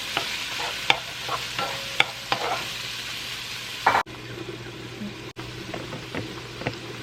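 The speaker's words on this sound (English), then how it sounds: "We're gonna fry up those as well." Pre-cooked beans frying in a pot for a Jamaican rice dish, giving a low steady sizzle with repeated sharp scrapes and knocks of a spoon stirring, close and moderately loud, no talk.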